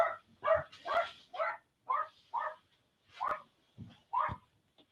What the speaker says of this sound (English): One of my dogs barking.